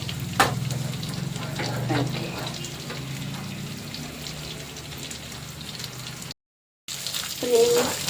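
River fish coated in green pepper masala frying in hot oil, a soft, steady sizzle with occasional clicks and crackles, close and moderately quiet, with a brief cut near the end.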